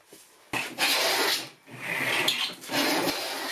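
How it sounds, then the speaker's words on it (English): A hand plane cuts wide grooves in wood for a stair nose, making close rasping strokes, with two long heavy shavings pulled across the workpiece after a soft start. "Now I can start cutting the wood. I have to do this as a series of wide grooves."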